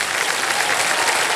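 A studio audience on a television quiz show claps in dense, sustained applause, loud and continuous throughout.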